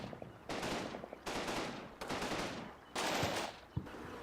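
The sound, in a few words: machine gun fire from video game Combat Mission: Red Thunder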